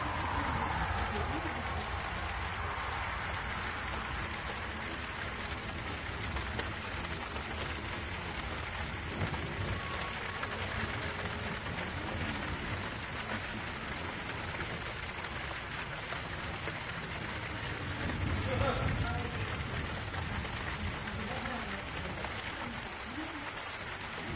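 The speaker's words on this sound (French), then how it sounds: "Donc là on rentre dans le rideau de pluie au fait." Heavy rain roars in a dense, steady hiss as a vehicle drives into a curtain of rain, continuous and loud throughout.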